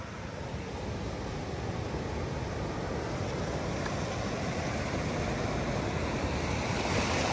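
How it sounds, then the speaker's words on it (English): Ocean surf rolls in on the ocean side of a Bora Bora resort, a continuous broadband roar of waves with wind buffeting the microphone, swelling slightly louder toward the end and with no voices. "You hear the waves crashing,"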